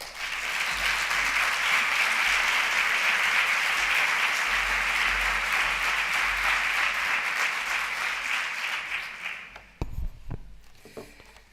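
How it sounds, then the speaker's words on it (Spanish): A conference audience at a professional guidance event gives sustained, dense applause for a regional economy and employment minister. The clapping stays loud for about nine seconds, then fades out into a few scattered claps and noises. "doña Marta Gastón Menal, para quien pido, por supuesto, un fortísimo aplauso."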